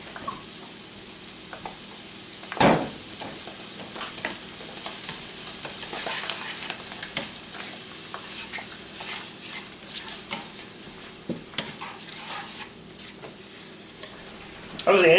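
Food sautés in butter in a pan for a loco moco, a steady close sizzle with frequent scraping stir strokes and small clinks throughout.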